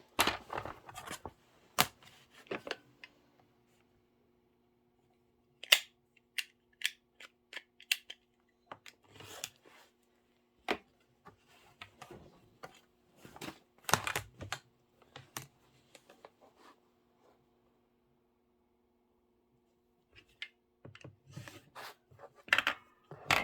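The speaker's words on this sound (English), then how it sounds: "I'm going to go ahead and trim off these loose edges" Scissors trim the loose fabric edges of a quilted Kimberbell pillow in quiet, scattered snips and rustles, coming in short clusters with silent pauses between.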